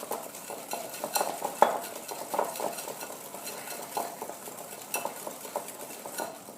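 Egg yolk mixture being beaten in a bowl gives a soft, rapid rhythmic clicking and tapping of a utensil against the bowl, fairly quiet and continuous, with no voices.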